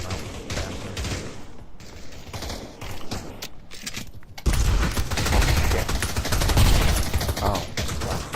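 Video game gunfire, rapid automatic bursts crackling steadily, then growing louder and denser midway into a continuous loud volley with no talking.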